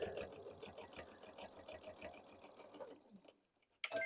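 A sewing machine stitches across a fleece block from corner to corner, a steady fast mechanical chatter for about three seconds before stopping, followed by a brief clack.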